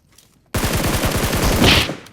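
A burst of rapid automatic gunfire from a G9 weapon in PUBG Mobile fires loud and close after a short silence, its quick regular shots rattling for about a second and a half before cutting off.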